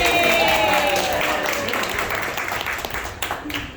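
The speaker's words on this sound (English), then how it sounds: "let's also give a round of applause to Jason, who is a regular." Applause from an improv comedy audience, strong at first and gradually thinning, with voices and cheers mixed into the clapping.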